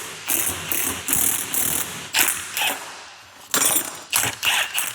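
An impact gun works a heated nut loose on a GM truck, giving repeated short, loud rattling bursts with brief pauses between them.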